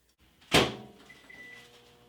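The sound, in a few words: microwave oven heating butter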